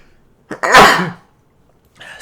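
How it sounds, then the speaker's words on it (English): A single sharp, loud sneeze bursts out close by after a brief intake of breath, then silence, followed by the start of a faint sound at the very end. "Also, I need to sneeze."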